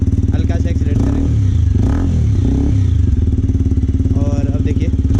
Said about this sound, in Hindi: अभी आइडलिंग पे है बाइक, हल्का सा बाइक एक्सीलरेट करेगा